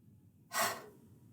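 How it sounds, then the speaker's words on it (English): A single sharp, deep in-breath, close and fairly quiet, rising quickly and then tapering off during a relaxation breathing exercise. "Breathing in."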